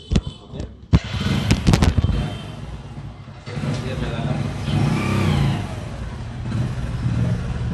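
A Hero Splendor motorcycle, just fitted with a rebuilt gearbox and bore, is test-ridden with a few sharp clicks and pops at the start, then a steady engine drone rising and falling as the gears change.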